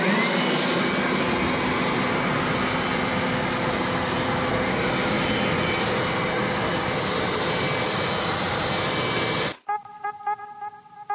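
A car-drying air blower with a nozzle runs steadily and loudly for about nine seconds, giving a broad, rushing whoosh with a faint whine, then cuts off abruptly and leaves quieter background noise.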